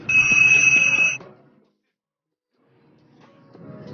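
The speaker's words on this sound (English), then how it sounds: "An alarm clock," An alarm clock rings with a loud, steady electronic tone for about a second, then cuts off into near silence before faint rustling returns.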